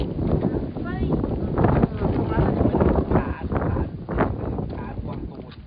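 Strong wind buffets the microphone at the Pha Chanadai clifftop sunrise viewpoint, a loud continuous rumble under people talking.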